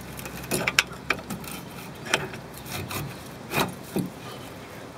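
Screwdriver prying open a front brake caliper during a pad and rotor replacement, giving a few sharp metallic clicks and scraping rubs spread unevenly over several seconds, close and moderately loud with no talking.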